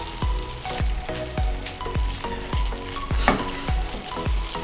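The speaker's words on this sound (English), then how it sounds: "It's important to let the meat sizzle because it's going to leave a certain flavor to the ragu itself" Meat sizzles steadily in a pan while ragu bolognese cooks, with a run of regular close thuds or knocks of a spoon or pot roughly every half second layered over the constant frying hiss.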